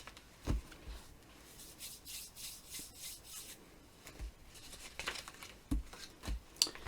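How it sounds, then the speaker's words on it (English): Sugar paste pushed into a plastic sandwich bag, soft crinkly rustling and rubbing in short bursts with a few sharper handling knocks, close and fairly quiet. "pop your sugar paste in your bag"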